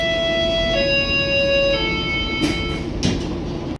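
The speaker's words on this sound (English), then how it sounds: "I never understand why the train crawls through this section" ION light rail train creeping slowly along track shared with a freight spur, a close steady rumble with high tonal whines that step down, plus a couple of sharp clanks near the end.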